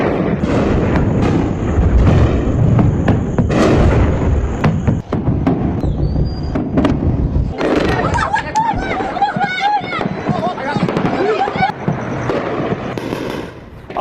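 Iranian ballistic missiles exploding after getting past Iron Dome in a strike on Israel's defence ministry, a continuous rumbling barrage of blasts and crackles, with sirens or whistles and crowd voices mixed in, loud and sustained throughout.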